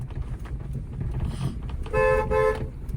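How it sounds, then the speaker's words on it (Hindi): Car horn honked while learning to drive on a hill road at a blind turn: a short tap, then a longer double blast, loud and close over the idling engine, with no speech. "और एक हॉर्न बजाओ और लॉन्ग, क्योंकि अंधा मोड़ है ना"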